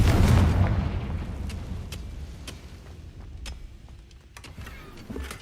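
Explosion effect for a Confringo blast in a Harry Potter parody: a loud, booming burst right at the start that rumbles and fades into a lingering low tail, with a few faint clicks afterward.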